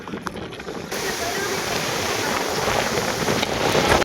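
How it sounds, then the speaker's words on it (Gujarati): Steady rain falls outdoors in a continuous, fairly loud broadband hiss that thickens after the first second and stays even throughout. "વરસાદ ચાલુ છે."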